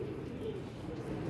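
Pigeons cooing, a pair kept by a hobbyist, with soft low throaty coos running continuously and faintly over a short stretch of quiet background.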